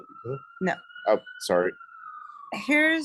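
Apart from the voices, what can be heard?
police siren passing in the city street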